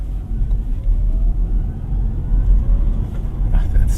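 A 2024 MG4 EV Standard base model accelerating in sport mode, heard from inside as a steady low rumble of road and motor noise that swells slightly.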